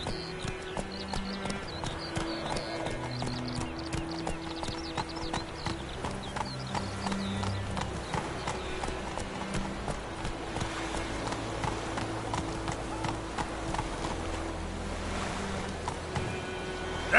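Roach the horse trots with steady clip-clop hoofbeats through The Witcher 3 countryside near White Orchard, an even, continuous rhythm sitting under a bed of tonal game music.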